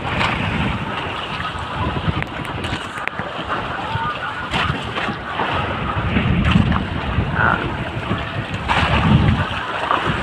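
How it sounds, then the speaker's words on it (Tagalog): Rough sea and gusting wind roar together, with waves surging and crashing in heavy swells and wind buffeting the microphone throughout. "Yung pala lumakas pa yung alon."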